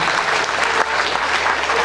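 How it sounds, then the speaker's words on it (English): Loud, dense applause from a church congregation, continuous and even throughout, with no voices standing out. "A round of applause this morning, amen."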